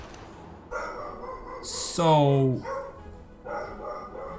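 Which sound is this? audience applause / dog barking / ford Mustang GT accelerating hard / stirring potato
dog barking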